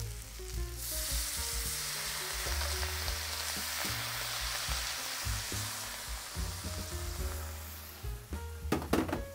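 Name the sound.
deglazing a stir-fry pan of vegetables, sizzling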